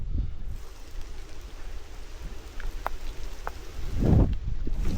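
Rain falling in a forest during a bike trip, a steady hiss of drops with occasional louder splashes and rustling close by.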